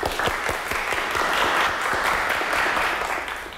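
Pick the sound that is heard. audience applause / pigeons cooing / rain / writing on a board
audience applause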